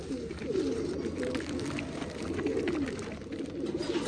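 Pet pigeons, Lakha and Kala chapra pairs kept by a fancier, coo in soft throaty rolls close by, several birds overlapping in a continuous low murmur.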